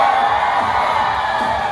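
Audience at a Hong Kong film premiere for Night King cheering and whooping, a brief, dense wash of crowd noise that holds steady throughout.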